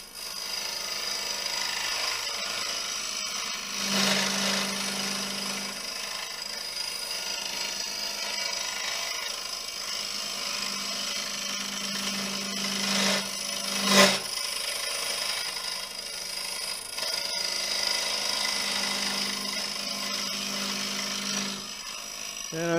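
A hand tool carves a koa wood crotch bowl with an undercut rim, making shavings. It gives steady back-and-forth rasping and rubbing strokes, close and continuous, with a brief sharper scrape near the middle and no talk.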